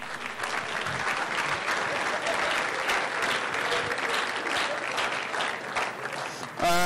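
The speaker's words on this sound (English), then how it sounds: "Give him another round of applause." A crowd applauds at a community college student achievement awards ceremony, dense steady clapping for nearly seven seconds that ends abruptly, with no talking over it.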